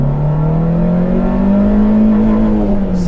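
A German car engine revs up toward its 6,500 RPM red line, a loud droning tone climbing steadily in pitch and holding close and constant throughout.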